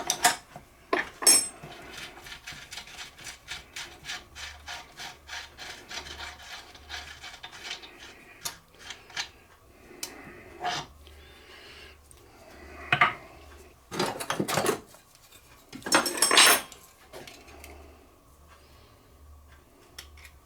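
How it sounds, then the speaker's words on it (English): Cheap tin snips cut thin metal shims during a steam engine restoration, giving a series of sharp metallic snips and scraping rubs, some louder bursts standing out alone. "These are the cheapest, nastiest tin snips I've ever had, but they certainly work."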